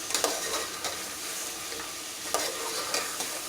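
Red chilli and spices stirred and fried on a high gas flame, a steady loud sizzle with repeated scraping stirs of the spoon, close and with no talk.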